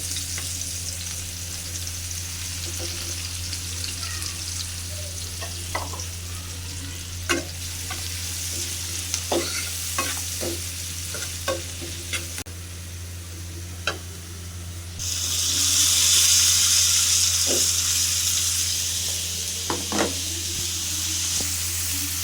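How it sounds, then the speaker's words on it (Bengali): Bitter gourd frying in leftover hilsa fish oil gives a steady close sizzle with scattered clicks of stirring, and the hiss swells brighter and louder for the final stretch. "এই মাছের এই তেলেই আমি করলা ভাজিটা করে নিব এখন"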